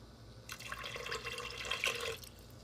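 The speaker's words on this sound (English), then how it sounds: "I'll add water." Water pours into a cooking pot for mung dal sambar in a short, quiet stream lasting about a second and a half before stopping.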